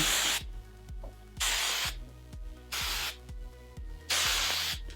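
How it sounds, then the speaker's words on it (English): Several bursts of hairspray hiss out onto a wig in short blasts, each about half a second long, separated by quieter gaps with soft rubbing. "Just gonna spray it a little bit and smooth it."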